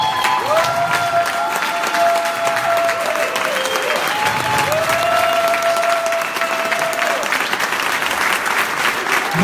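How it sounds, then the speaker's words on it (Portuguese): A standing audience at a live event gives loud, continuous applause with scattered cheers, filling the whole stretch while sustained tones, probably music, glide above the clapping. "conhecem o Caio e a Fabiana, que se levantem e deem uma salva de palmas."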